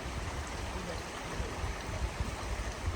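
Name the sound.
flowing water of a stream beside a campsite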